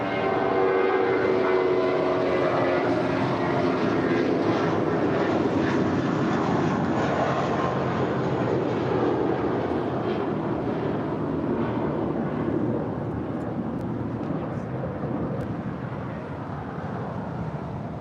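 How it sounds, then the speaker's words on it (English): A Hawaiian Airlines jet taxies toward runway 24 left on the north side of LAX, a broad steady engine roar at moderate distance that slowly fades over eighteen seconds. "That is Hawaiian Flight 3 heading over to 24 left there on the north side."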